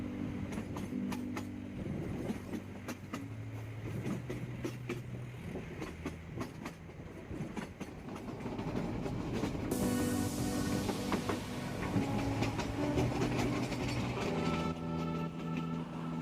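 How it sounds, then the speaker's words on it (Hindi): Train climbing through the Himachal Pradesh mountains, a steady rumble of rolling wagons with rhythmic clickety-clack over the rails, heard from on board and growing slightly louder toward the end. "जैसे जैसे ट्रेन पहाड़ों पर चढ़ रही थी"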